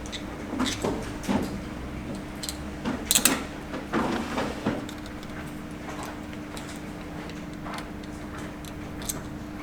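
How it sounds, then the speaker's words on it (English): A bar-end mirror is screwed onto an electric bicycle handlebar, making quiet irregular clicks, ticks and small scraping turns, busier at first and then trailing off into near silence. "now I'm going to put on the mirror"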